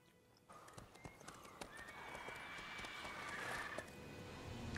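Roach, the player's horse in The Witcher 3, lets out a whinny over a steady run of hoof clops, close and fairly loud, with faint game ambience behind.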